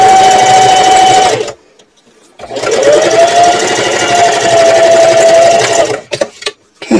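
A home sewing machine stitches a purse seam at a 3/8 inch allowance in two close, steady bursts of whirring, broken by a short pause and followed by a few quick stop-start stitches.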